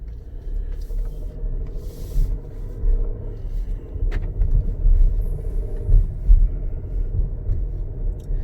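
A 2020 Ford Explorer Platinum SUV's engine rumbles low and steady as it pulls away and keeps driving, with road noise rising and falling throughout.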